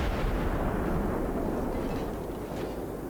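Naval shell barrages roar from the guns in World of Warships, a sustained low rumbling boom that fills the whole moment, dense and heavy with no clear gaps.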